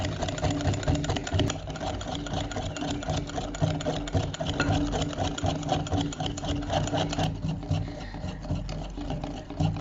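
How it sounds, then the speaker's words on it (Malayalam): An electric beater whips dalgona coffee for a Kerala-style recipe, giving a steady, continuous motor whir with scraping against the bowl that runs unbroken throughout at moderate volume, with no talk. "ഇനി കുറച്ചുകൂടെ ഒന്ന് ബീറ്റ് ചെയ്താൽ മതി."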